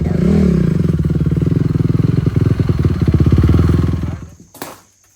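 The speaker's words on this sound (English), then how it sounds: "surprisingly it fired right up first kick" A CRF 250R dirt bike that had sat for seven years runs loud and close after a kick start, its rapid engine pulses steady with some clatter, then the engine cuts out and fades to near silence.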